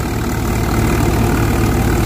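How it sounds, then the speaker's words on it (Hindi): A tractor engine idles steadily and smoothly in a field beside a KSA reaper making chaff, its low, even rumble close and continuous throughout with no voices. "ट्रैक्टर देखो कितना साइलेंट चल रहा भाई"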